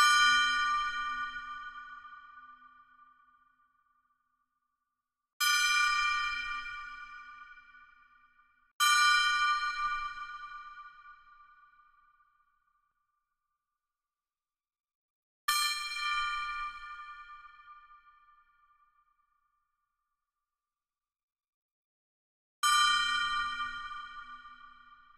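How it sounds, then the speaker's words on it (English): A gong struck five separate times at irregular intervals, each hit a bright metallic clang that rings out and slowly fades, close and clear with silence between strikes and no talking. "Chat, we have a gong."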